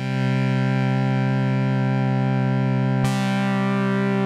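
A basic synth lead, dry and unprocessed, holds a steady sustained tone with a bright buzzy edge, changing abruptly near the end to a brighter note, loud and alone.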